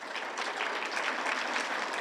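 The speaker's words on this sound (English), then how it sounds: "Thank you for clapping." Audience members and faculty at a literary review reading and launch party clap together, a brief, busy patter of many hands at moderate loudness with no voices over it.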